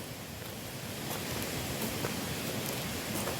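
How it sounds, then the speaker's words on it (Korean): Rainwater runs steadily off an extended roof, a soft continuous splashing hiss with scattered drips, faint and close with no voices. "물 잘 흐르죠? 아주 이쁘게 흐르고 있습니다."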